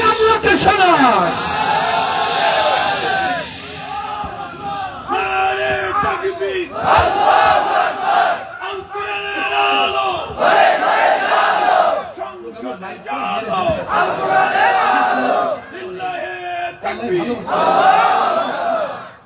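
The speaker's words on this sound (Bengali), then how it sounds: "তাকবীর ধ্বনি দিয়ে আল্লাহকে শোনায়।" A large crowd at an outdoor Islamic gathering in Daudkandi, Comilla, shouts loud collective chants in repeated bursts through an amplified sound system, each call followed by a roaring group response, with a voice leading between them.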